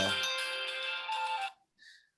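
A phone ringtone chimes with bright electronic tones for about a second and a half, then a brief softer note, near and clear with little else around it.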